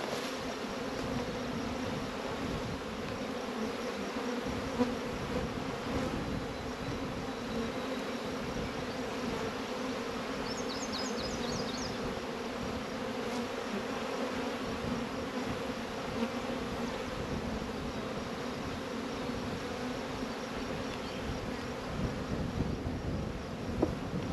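Honey bees buzzing around hives during hive splitting, a dense, continuous drone of many insects close to the microphone, steady throughout with light wind noise and no talking.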